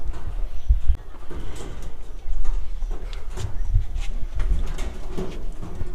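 Soft pigeon cooing among low rumbling and scattered handling noises, with faint background activity; the coos are muffled rather than prominent.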